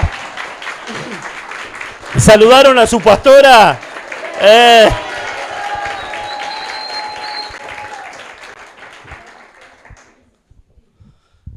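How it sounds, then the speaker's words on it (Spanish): A congregation at a church service applauds their pastor; a brief crowd clapping swell sits between loud spoken phrases, with a voice talking over and around it before fading to near silence. "¡Un aplauso!"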